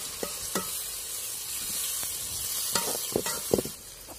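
Tomatoes and onions sautéing in a pan for a country-chicken gravy, a steady soft sizzle with a few sharp scrapes and clicks of a stirring spoon scattered through, fairly close.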